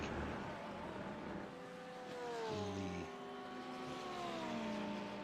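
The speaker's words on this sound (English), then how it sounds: "the Riva-sponsored Ferrari, following Juan Salazar in the Lambo" Ferrari and Lamborghini GTD race cars run on track, their engines droning and shifting pitch as they pass, with one car rising and falling clearly over steady distant engine noise.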